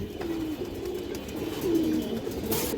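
Pigeons at a pigeon market stall coo in low, repeated rolling calls, two clearer phrases standing out over a steady background murmur of other birds, fairly close.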